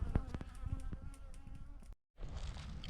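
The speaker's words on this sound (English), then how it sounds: "Barn bees, baby." Bees from a barn hive in winter, untreated colonies, buzzing in a steady low drone with scattered passing fly-bys, cutting briefly to near silence before the hum resumes.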